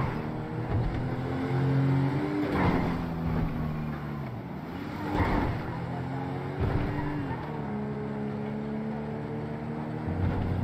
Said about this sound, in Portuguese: Esse carro da polícia, ele é bom pra ficar atropelando